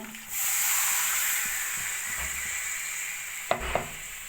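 Potatoes frying in a pan for aloo dum with a steady sizzle and hiss, followed by water rinsed from a spice-grinder jar poured in, adding a few soft splashes and spoon clinks near the end.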